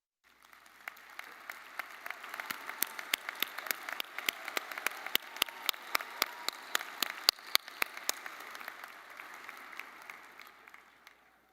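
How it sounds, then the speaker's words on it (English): Applause at a university commencement ceremony as faculty and staff are acknowledged: scattered, sharp individual claps building into a fuller patter, somewhat distant and moderate in level, then thinning out near the end. "give them a round of applause."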